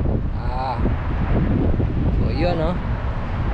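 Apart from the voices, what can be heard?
strong wind blowing on a boat at sea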